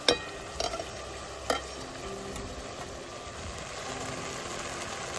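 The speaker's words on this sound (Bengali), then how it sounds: "তো তেল ছেড়ে দিয়েছে মশলা থেকে এবার আর একটুক্ষণ কষা নেবো" Spice masala being sautéed in oil in a pot on a wood-fired clay stove, a steady soft sizzle with a few sharp stirring clicks near the start, no voices.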